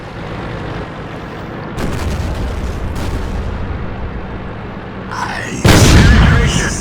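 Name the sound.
T-32 tank cannon firing APCR rounds in World of Tanks video game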